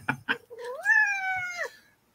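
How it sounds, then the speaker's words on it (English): An angry cat sitting in a lap lets out a drawn-out, rising and wavering meow lasting over a second, preceded by two short sharp vocal bursts, close and clear. "I got an angry cat in my lap."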